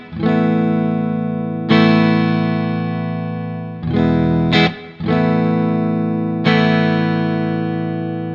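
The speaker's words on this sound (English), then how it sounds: "So here's the clean sound of this Deluxe." Clean electric guitar played through a Fender Deluxe tube amp, four strummed chords each ringing out and slowly decaying, with a quick choked strum near the middle, close and fairly loud with no talking.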